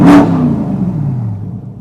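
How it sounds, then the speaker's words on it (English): Chevrolet C8 Corvette engine revved with the exhaust open, one loud close blip that rises sharply then falls away over about two seconds. "Now that's a proper sounding engine right there."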